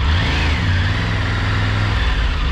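A Triumph Tiger 900 Rally motorcycle pulls away, its engine loud and close with a steady rumbling drone that holds fairly even through the moment.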